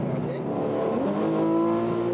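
A sports car lapping at a track event eases off and then re-accelerates, its engine note dipping and climbing again in a steady, continuous roar, with a voice talking over it.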